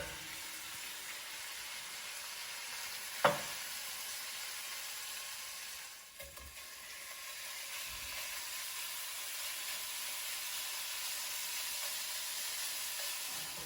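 Pork sizzles in a pan as a second batch cooks, a faint, steady hiss with a single sharp clink near the start and a brief dip midway before the frying resumes.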